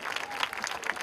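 Audience applause at an art festival inauguration in Mumbai, a brief continuous burst of crowd clapping, fairly loud and even.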